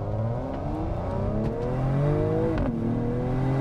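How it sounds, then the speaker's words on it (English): A 2020 Mercedes-AMG GLE 53 in Sport Plus mode accelerating through a tunnel, its engine note climbing steadily through the gears with a brief dip at a shift, loud and close with no talk. "We've got some pops and bangs coming from this car."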